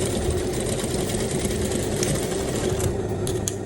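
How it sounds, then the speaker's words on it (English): A sewing machine stitching the edge of a welt pocket flap, a steady close mechanical hum with a fast even stitching rhythm running throughout, no voices. "Then you want to sew the flap at the edge."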